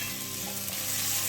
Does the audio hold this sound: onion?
yes